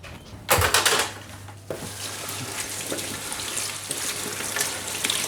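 Fresh herbs are rinsed under a running tap for a salad, with a burst of splashing water and handling noises followed by a steady hiss of flowing water, close and fairly loud.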